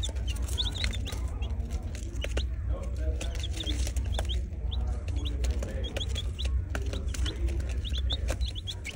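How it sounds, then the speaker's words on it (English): Newly hatched chicks in a kindergarten class barn give quick, high peeps over and over, scattered across a steady low background hum. "Chicks have hatched in kindergarten."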